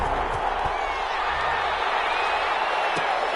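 Stadium crowd roaring steadily in an NFL football video game before a Brooklyn Barons versus Tennessee Titans kickoff, a continuous wash of cheering with faint claps and whoops.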